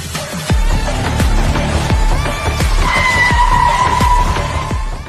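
A car speeds hard with repeated tire squeals and skidding over a loud, continuous engine roar, close and sustained throughout.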